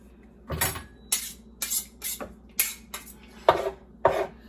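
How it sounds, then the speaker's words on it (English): A fork cuts butter into dry ingredients for raisin walnut tea scones, producing about eight distinct, evenly spaced metallic clanks and scrapes against a bowl, close and alone. "So I want to put my butter into my dry ingredients"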